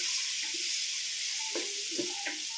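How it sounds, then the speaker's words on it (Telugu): Chopped small tomatoes cooking in oil in a pan with turmeric, ginger and garlic, giving a steady soft sizzle with a few light stirring scrapes, close and alone with no talk. "ఈ టమాటాలు ఇవన్నీ మంచిగా నూనెలో మగ్గాలి"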